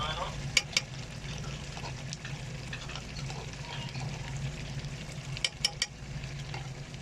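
Chicken sizzles and fries in a pan as garlic and ginger paste goes in for a chicken korma, a soft steady crackle broken by a few sharp clicks of stirring.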